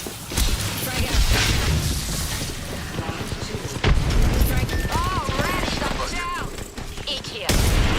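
Grenade blasts and rapid gunfire in Apex Legends, dense booming bursts and crackling shots layered with whooshing effects and sharp tonal sweeps, loud and continuous with voices talking over it.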